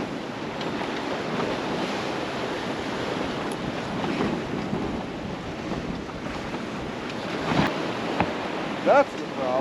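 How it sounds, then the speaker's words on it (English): Steady wind buffets the microphone as waves wash around a small sailboat on the water, a constant broad roar that stays loud throughout, with a brief faint voice near the end. "As the wind shifts and as waves pick up the back of the boat and move it around"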